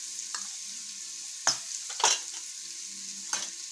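Potato curry sizzling softly in a pan while being stir-fried, with three or four distinct spatula scrapes over a faint steady fry, no speech.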